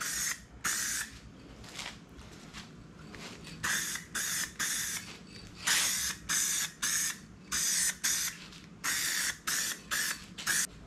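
An aerosol can sprays a yellow first coat onto grill letters for a 2021 Bronco Black Diamond. Short, close hissing bursts repeat about a dozen times, separated by brief pauses and faint rattles.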